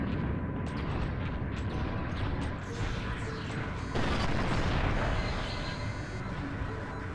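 Explosions and crashing debris in the SPAZ space combat game, a dense rumbling barrage of booms and metallic impacts that swells midway and carries on loudly throughout.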